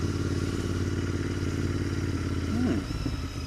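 A Royal Enfield Interceptor 650 twin-cylinder engine thrums steadily at close range while riding, with a pulsing, throbbing rhythm, briefly scraping and clattering near the end before settling.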